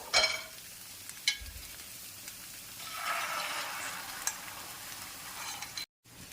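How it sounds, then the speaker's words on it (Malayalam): Egg poured into a hot pan beside sautéed onion, a faint crackling fry with a few clicks and light scrapes, rising into a soft sizzle midway before a brief cut. "ഇനി സവാള അരികിലോട്ട് മാറ്റി വെച്ചിട്ട് മുട്ട ഒഴിച്ചു കൊടുക്കാം."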